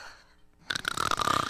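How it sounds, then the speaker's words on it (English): A Persona 4 character snores in a loud, rasping burst, opening after a quiet lull into a rough, rattling drone that runs on alone. "Do you think she'd stop snoring if I covered her nose and mouth?"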